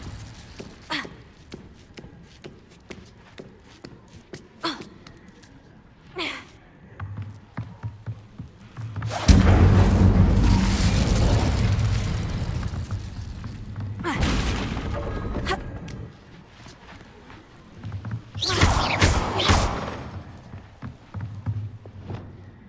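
An Incendio fire spell in Hogwarts Legacy erupts in a loud, roaring burst that lasts several seconds, then a second shorter flare follows, with scattered light thumps and steps in between.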